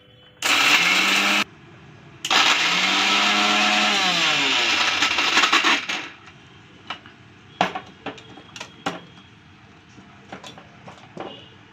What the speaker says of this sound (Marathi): तुम्हाला व्हिडिओमध्ये मिक्सरचा आवाज येईल.